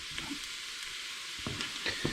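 Onions sizzle and fry steadily in a pan as they brown, with a continuous crackling hiss and a few soft stirring clicks, close and fairly quiet, with no voices.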